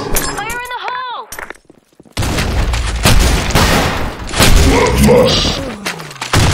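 A grenade detonates in the online shooter Blackshot: an abrupt loud boom after a short silence, followed by dense crackling gunfire and in-game voice callouts.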